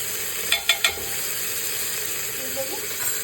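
Oil sizzling in a pan as a tempering is fried and turmeric added for eggplant sambar: a steady, bright hiss throughout, with three quick clinks of a spoon early on.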